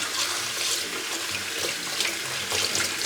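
Komatsuna greens are rinsed under a running kitchen tap to wash off soil, a steady close splash of water over the sink with no voices.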